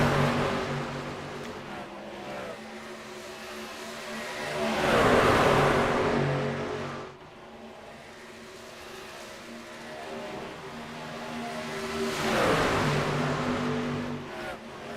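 Race cars roar around the Atlanta track at a season opener, two loud passes swelling up and fading away against a constant engine drone from the rest of the field.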